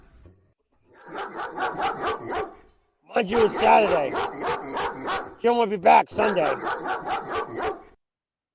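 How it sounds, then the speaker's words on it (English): A dog barks repeatedly in a backyard, a rapid loud run of barks breaking off briefly and resuming, with a voice talking over it. "Now the dog's barking in the fucking backyard."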